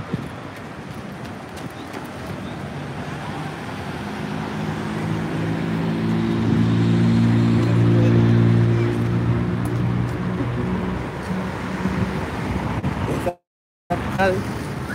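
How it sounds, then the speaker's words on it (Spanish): An open-air pulmonía taxi, no longer fitted with a VW Beetle engine, runs quietly along the Mazatlán seafront at sunset: a low steady hum swells and fades over windy outdoor background noise, with a brief dropout near the end. "Ya escucharon, se oye como un carro así silencioso."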